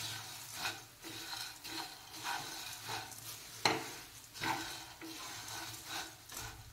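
Puffed rice being tossed with salt and chaat masala in a pan over a flame, giving soft, repeated dry scraping and rustling strokes with a faint sizzle, fairly quiet and close.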